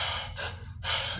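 A man imitates a sharp gasp of breath heard in solitary confinement, voicing two quick airy inhales separated by a short pause, close and fairly loud with no other sounds.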